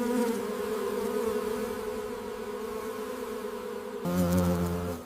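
A dense swarm of about 30,000 bees drones at the hive during a fight with a giant hornet. A steady, close, continuous buzzing hum swells louder and shifts pitch near the end, with no voices.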